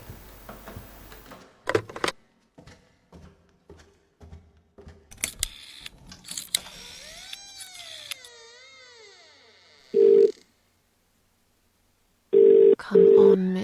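Telephone dialing in the video game The Cat Lady: a series of small clicks and ticks, then separate electronic dial tones, with a short sweeping sound in the middle.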